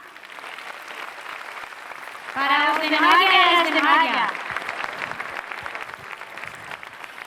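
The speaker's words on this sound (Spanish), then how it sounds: "Aplausos para os de Noalla." Applause rings out for the Noalla murga group at a carnival murga contest semifinal in Pontevedra, steady crowd clapping running throughout while an announcer's voice speaks over it midway.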